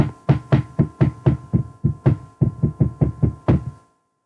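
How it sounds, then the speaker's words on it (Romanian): Fourteen sharp knocks on a door in an uneven, insistent rhythm of single raps and short runs, close and loud, then silence. "Dacă mai bate cineva la ușă"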